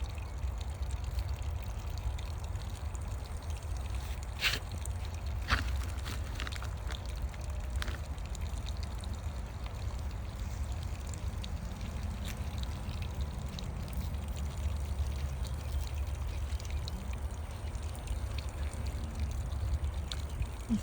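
Water poured steadily over freshly planted garden seedlings in dry soil, a continuous soft trickle and splash with occasional drips, close by and fairly quiet, no talking.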